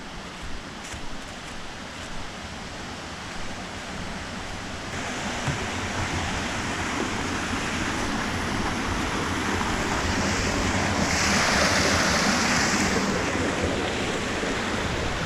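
Rushing river water from a braid of the Grass River in New York roars loud and continuous at close range, swelling slightly midway with a steady broadband wash and no voices.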